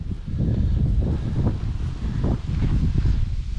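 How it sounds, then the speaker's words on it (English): Gusty wind at a campsite buffets the microphone in low, uneven rumbling bursts, fairly soft, with no voices. "You can see it's still pretty windy."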